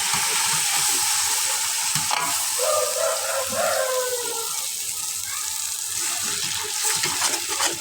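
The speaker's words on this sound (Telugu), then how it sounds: "ఇది కూడా మనం బాగా బ్రౌన్ కలర్ వచ్చే వరకు బాగా తిప్పుతూ ఉండండి।" Food browns in a pan while being stirred, for bagara rice, with a constant loud sizzle and shifting scraping strokes of the spoon, near and continuous, no voices.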